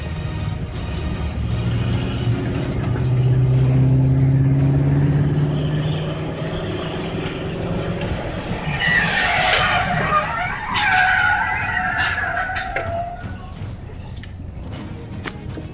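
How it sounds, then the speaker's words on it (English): A car driven at high speed on a hilly road, engine roaring loudly before tires squeal and skid in long screeches, with no one speaking. "A person makes a mistake by driving a car at high speed on a hilly road"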